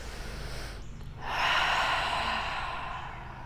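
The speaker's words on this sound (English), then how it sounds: "taking a collective deep breath" A deep breath taken during a yoga session: a quiet pause, then a long, close inhale that swells and slowly fades, heard alone without talk.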